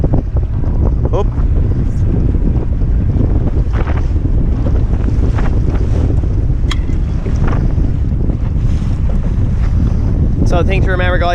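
A sailboat tacks in heavy wind, with a loud, constant roar of wind buffeting the microphone and rushing water, and brief voices near the end.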